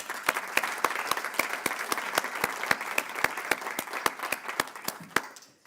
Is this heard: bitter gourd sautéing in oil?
no